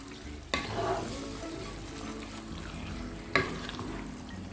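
Marinated chicken stirred in a hot frying pan for Chettinad chicken curry, a steady close sizzle broken by two sharp scraping clatters of the spoon against the pan.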